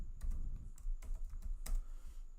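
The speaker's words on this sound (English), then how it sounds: "all you need to do is type in this command" Keys clack on a computer keyboard as a command is typed, a quick irregular burst of close, crisp taps over about two seconds.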